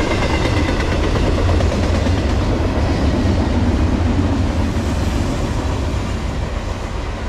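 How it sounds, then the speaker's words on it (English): A freight train led by BNSF and Union Pacific locomotives, including a BNSF C44-9W and an EMD SD70ACe, rolls past with a loud, steady rumble of engines and rattling cars, continuous throughout. "Fifth train of the day."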